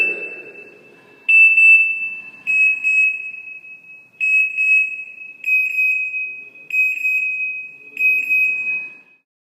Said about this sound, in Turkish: Eksi butonuna basılı tutulduğunda üç farklı tonda alarm sesi seçilebilir.